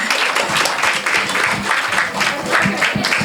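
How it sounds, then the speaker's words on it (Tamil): Audience clapping for a children's performance, a dense steady patter of many hands that stays loud and even throughout, close by with no voices over it. "அனைவரும் நன்றாக கரகோஷம் எழுப்பி நம் குழந்தைகளை உற்சாகப்படுத்துமாறு கேட்டுக்கொள்கிறேன்"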